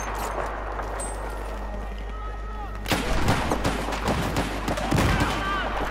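Gunfire in the Battlefield 4 video game, a steady battlefield rumble that turns into a loud cluster of close, sharp shots and impacts, followed by further scattered bursts, with a low engine-like drone underneath.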